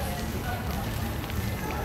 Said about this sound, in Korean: 지글지글거리는 소리.